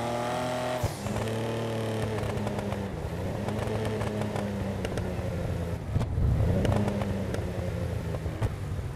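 A virtual car engine in GTA Online revs and burbles with rising and falling pitch, a loud, steady engine drone with gear-change dips and clattery overtones, no speech.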